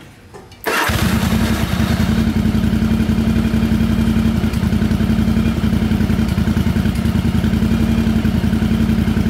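A Yamaha Virago XV700 motorcycle engine catches after a second of quiet, then idles loud and steady with a fast, even throb, its carburetors freshly synchronized.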